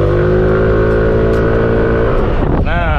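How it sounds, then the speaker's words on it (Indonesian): A Yamaha NMAX Neo scooter engine idles with a loud, steady hum close by, then revs sharply near the end as the VVA engages, the pitch climbing quickly. "Jadi kalau kalian mau ngaktifin VVA nya tinggal pencet gas."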